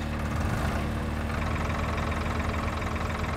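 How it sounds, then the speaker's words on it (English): Tractor engine idling in Farming Simulator 2013, a steady loud mechanical drone with a constant low hum and no talk over it. "I'll get this tractor off you."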